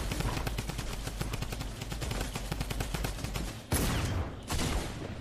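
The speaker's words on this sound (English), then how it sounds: "I'm getting shot from behind now." Rapid automatic gunfire from the Fortnite video game rattles continuously in dense bursts, loud and close, with a brief break near the end before firing resumes; no one speaks.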